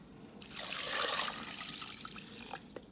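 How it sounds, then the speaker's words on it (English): Water poured from a cup into an Instant Pot while cooking lentils with carrots, a short close splashing trickle that swells and then tapers off. "So I'm adding 2 cups of water also."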